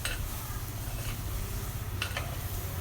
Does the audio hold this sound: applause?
no